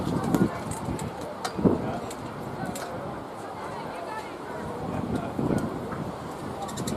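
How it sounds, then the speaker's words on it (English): Strong, steady wind buffets the microphone at an outdoor cricket ground in Brisbane during an under-19 women's Premier League match, a continuous rushing roar with occasional gust thumps and faint background chatter. "it is a very, very windy day in Brisbane"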